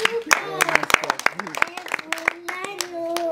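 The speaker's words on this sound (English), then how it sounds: "Clap for her, clap" Hand claps ring out in a quick, uneven rhythm, close and sharp, for a woman singing a gospel-style morning song to Jesus, with singing and talking voices running throughout.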